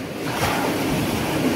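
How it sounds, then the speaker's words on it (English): Waves roll onto Tiwi Beach, a pebble shore near Sur in Oman, a steady broadband surf wash that stays close and fairly loud throughout, with some wind rumble and no voices. "We are here on the Tiwi Beach."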